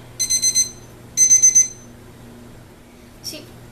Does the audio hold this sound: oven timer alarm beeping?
yes